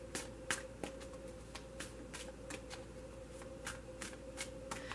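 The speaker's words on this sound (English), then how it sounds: "I'm only going to shuffle it for a moment" Crisp rapid riffles of a tarot deck being shuffled, a quick flurry of snappy flicks repeating close by, with no voices.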